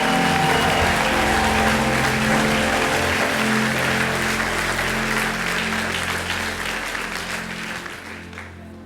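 A church congregation applauds in a loud, sustained wash of clapping that thins gradually toward the end, with faint crowd voices underneath.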